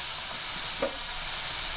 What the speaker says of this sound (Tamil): மேஷ் பண்ணி வச்சுருக்கிற டொமேட்டோவை நம்ம இதில் போட்டுக்கலாம்.